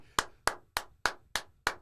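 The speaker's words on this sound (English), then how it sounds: "Round of applause. Round of applause." Six slow, evenly spaced claps ring out one at a time with short decays, sounding close and fairly quiet rather than like a full crowd's applause.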